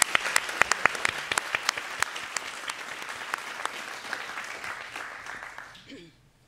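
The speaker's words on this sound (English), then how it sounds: "So if you would, a round of applause." An audience at a conservation evening event claps, individual sharp claps standing out over a thinning wash of applause that fades away into near silence at the end.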